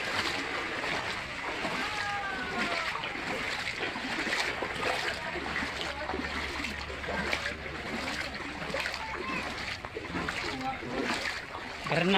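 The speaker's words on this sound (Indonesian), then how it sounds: "Banjir." Flood water in a village splashes and churns constantly, with rushing water noise close by and people's voices mixed in.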